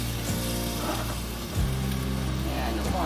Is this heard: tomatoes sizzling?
yes